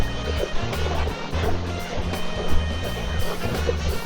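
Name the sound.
off-road vehicle crossing water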